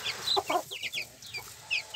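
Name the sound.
hen clucking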